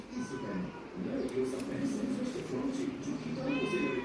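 A cat meows several times, fairly close, over a steady background, while a person talks nearby.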